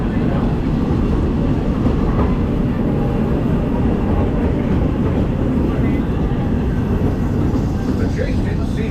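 A Walt Disney World Railroad train rolls by in Frontierland, a loud, steady rumble of wheels and cars close at hand, continuous and unbroken throughout.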